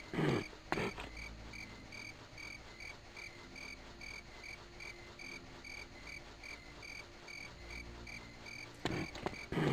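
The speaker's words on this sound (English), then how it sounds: "Crickets indeed." Crickets chirp in a steady, regular pulsing pattern throughout a quiet outdoor night scene in The Elder Scrolls video game, with soft ambient background noise and no talking.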